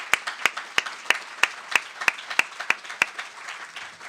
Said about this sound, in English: So once again, a round of applause for the panel.